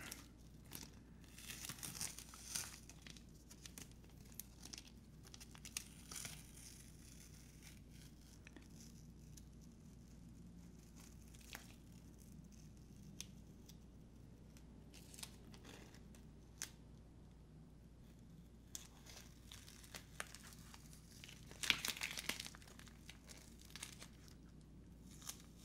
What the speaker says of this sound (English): so I will remove the tape and see what I got